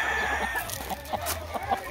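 A fighting rooster at a gamecock yard gives a series of short, quiet clucks close by, over a faint steady background with no talk.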